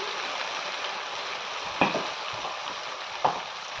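Ginger, garlic and onion paste sizzles in a pan with a steady close crackle, punctuated by two brief scraping stirs.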